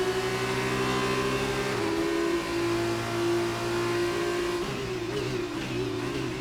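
A Formula 2 car engine in an esports racing game at Circuit of the Americas holds a steady high whine, with pitch drops and shifts as it brakes and downshifts, loud and continuous throughout.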